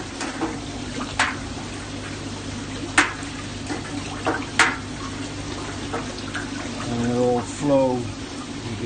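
Water being swirled with a brush inside a Nexus 320 pond filter, a steady wet sloshing with a few sharper splashes, while a voice talks intermittently over it.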